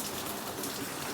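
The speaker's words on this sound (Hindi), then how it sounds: "बारिश के आवाज़ अहाँ सबके सुनाई देत है" Continuous rain falls steadily through a neighbourhood during a heavy downpour, a dense, even hiss of drops on surfaces with no pauses, no voices and no other sounds.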